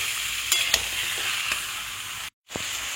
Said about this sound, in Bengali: পেঁয়াজ রসুনটার সাথে ভালো করে একটু ফ্রাই করবো, জাস্ট 2-3 মিনিট